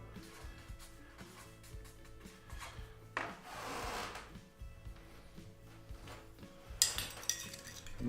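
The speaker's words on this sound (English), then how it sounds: "Now I'm going to stir this adobe into the water." Adobe soil sample being stirred into water in a lab beaker, with repeated scraping and clinking of the stirring tool against the container, a louder swirling stretch midway and sharper knocks near the end.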